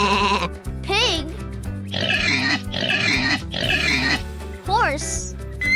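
A pig oinks and grunts in three rough, snorting bursts, loud and close, bracketed by short squealing cries before and after, over quiet background music.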